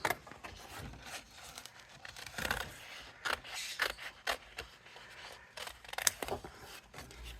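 Small scissors snip a strip of purple paper in a series of short, crisp cuts, close and quiet, with light paper rustling between the snips and no talking.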